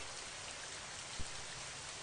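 Steady, faint rainfall with a soft hiss of drops on surfaces, continuous and even, with one small thud partway through and no voices.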